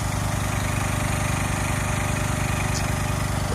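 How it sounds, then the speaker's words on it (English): Hydraulic cylinders lifting the front end of a Peterbilt 359 truck, heard as a steady, loud, droning engine and pump hum with no break or talking. "So the hydraulic cylinders are lifting right now, bringing the front end up."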